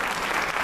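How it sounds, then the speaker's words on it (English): A brief burst of dense audience applause for honorees at a community round table event, steady and fairly close for under a second. "One last applause for our honorees"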